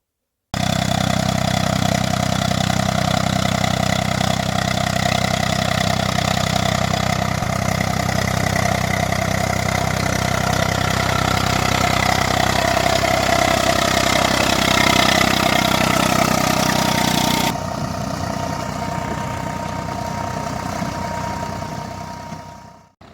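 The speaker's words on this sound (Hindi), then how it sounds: "अभी यहाँ पर आ गया है ट्रैक्टर और ट्रैक्टर से रोटर हो रहा है" A tractor engine idles close by on a farm with a rotor running, a loud steady chugging drone that drops slightly in level near the end before fading out.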